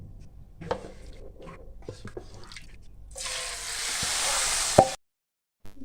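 Spices sizzle loudly in hot oil for a couple of seconds after some quiet kitchen clatter, a bright frying hiss that cuts off abruptly, tempering Kashmiri dal.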